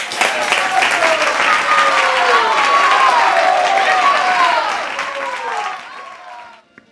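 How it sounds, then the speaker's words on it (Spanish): Studio audience on a TV show applauding a singer, a dense, loud wash of clapping with some cheering that holds steady, then thins and fades out near the end. "Un aplauso para ella, venga."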